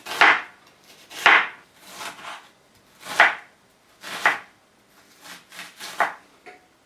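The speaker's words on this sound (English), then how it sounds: "we cut the onion into very small pieces" A knife chopping an onion into small pieces for a kabsa, about eight crisp, separate strikes against a cutting board, close and distinct, with quiet pauses between some of them.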